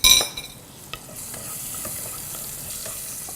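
Chilies dropped into hot oil with hing for Sindhi dal give a sudden loud burst of sizzling, then a brief scrape and a steady close crackling fry that carries on evenly.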